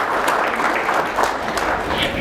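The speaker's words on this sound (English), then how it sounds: "A round of applause for the new farmers here present today." Audience applause at a young farmers conference, a steady wash of many hands clapping that fills the whole short stretch at an even level, with a faint murmur of voices mixed in.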